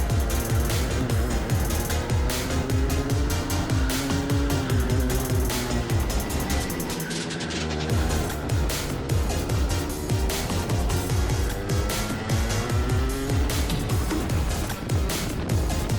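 DMAX SuperChamps race cars contest the Tamworth circuit, engines droning steadily and loudly throughout with overlapping pitch sweeps as cars run close together under continuous commentary.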